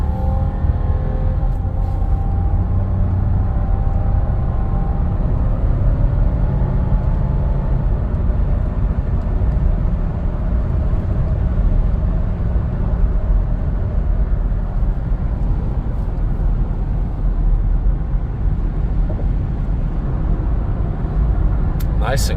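Steady cabin rumble inside a Lexus LX470 driving along a road, a low continuous road and engine hum with no clunks or whines, while someone talks over it throughout.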